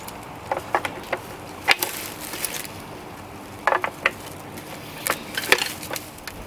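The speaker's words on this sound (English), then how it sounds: "That's a battery operated winch." A battery-operated utility winch drags a shed, giving scattered sharp clicks, ratcheting ticks and woody creaks in irregular bursts against quiet surroundings.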